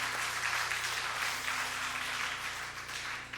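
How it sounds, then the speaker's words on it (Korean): A Korean church congregation applauds during a Sunday worship service, a steady, even wash of many hands clapping that carries on throughout, with a low background hum. "우리 청년부들을 위해서 다시 한번 큰 박수로 격려해 주시기 바랍니다"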